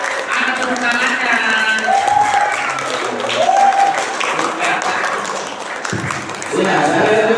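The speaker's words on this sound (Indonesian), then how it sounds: "Iya, kasih tepuk tangan." Applause from an audience at a Ramadan boarding-school quiz event, a steady broad wash of clapping filling the room from start to finish, with voices and a few tonal sounds mixed in.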